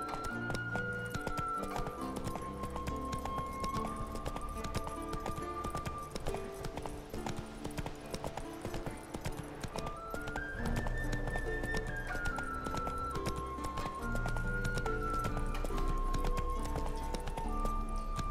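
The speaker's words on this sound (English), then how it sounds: "So we'll mount Roach and we shall be off." Horse hooves clip-clopping at a gallop in The Witcher 3: Wild Hunt, with continuous rhythmic footfalls beneath a loud, steady game music score and no talk.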